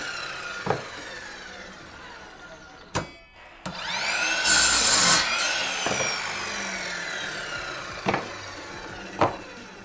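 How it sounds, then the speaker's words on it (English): A pocket saw cuts two 11-inch wooden board pieces for a porch leaner, giving rasping back-and-forth strokes with a few sharp knocks, close and fairly loud with no speech. "We're gonna use our pocket saw to just cut these 2 11-inch pieces."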